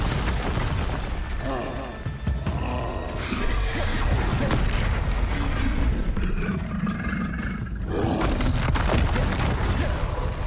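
A Bombarda explosion spell from the Hogwarts Legacy video game erupts in heavy, roaring booms that run continuously and loudly with little break across the whole span.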